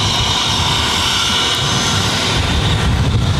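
A jet airliner departing Boston airport rumbles loud and steady, a broad roar with hissing highs that holds without a break.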